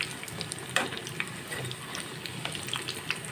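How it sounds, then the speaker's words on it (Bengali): Semolina snacks fry in hot oil, a soft, steady sizzle with small crackling bubbles popping at close range as the pieces are turned over. "দেখুন উল্টে পাল্টে একদম ভেজে নিচ্ছি।"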